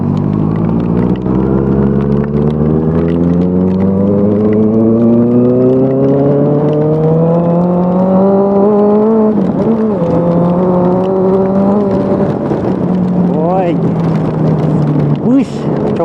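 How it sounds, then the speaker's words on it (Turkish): A Honda CB 650F motorcycle with an aftermarket exhaust revs up steadily with a rising pitch, holds a strong throaty drone, then eases off, continuous and close throughout. "Vallahi egzozu dinliyorum yemin ediyorum. Egzoz çok iyi oldu ama."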